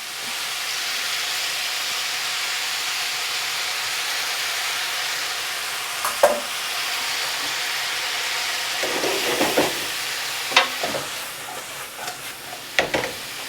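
Pork, vegetables and noodles stir-fry in a pan, giving a steady hiss and sizzle throughout, with a few short clatters and scrapes of stirring near the end.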